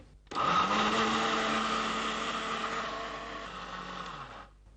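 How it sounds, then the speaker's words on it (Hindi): A kitchen blender grinding four or five mint leaves, starting abruptly and whirring loudly and steadily for about four seconds before winding down, close up with no talking. "करीब 4-5 पुदीने के पत्ते, और अब इसे हम पीसेंगे।"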